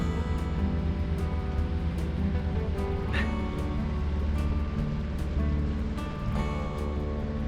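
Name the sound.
boat motoring on the water without sail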